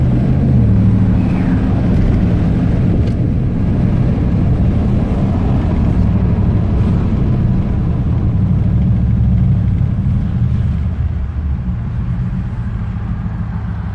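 A 2015 Ram 1500 pickup's engine fitted with headers runs steadily nearby, a loud, deep, continuous rumble holding the same tone with no talk over it.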